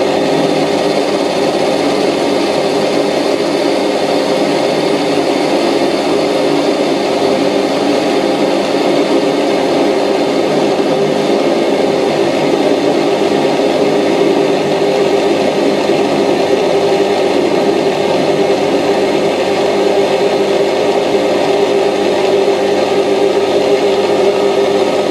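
A metal lathe with a Dixon quick change tool post runs continuously at 1600 RPM, a steady, loud mechanical hum and whine that holds unchanged throughout, with no voices.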